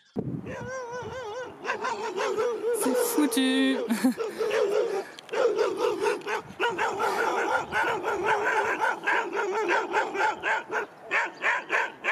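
Shepherd dogs barking at walkers in a scenic spot in Georgia, repeated loud yelping barks and whines close by throughout, with a person speaking briefly over them.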